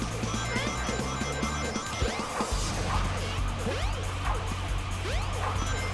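A police car siren wails repeatedly in the video game Sonic Adventure, with the siren sweeps running over busy game noise and a low engine drone.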